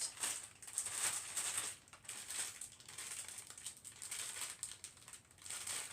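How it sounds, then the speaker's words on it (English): Shortcake biscuit packaging crinkles and crackles as it is torn open, a steady run of close plastic rustling across the whole stretch with brief pauses. "I am probably going to just destroy this packaging"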